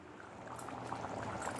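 Potato chicken kurma gravy simmering in a pot, a short burst of soft, bubbling liquid noise that holds steady throughout.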